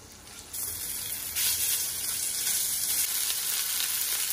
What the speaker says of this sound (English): I'm gonna go ahead and drop in some of this meat that we're going to sear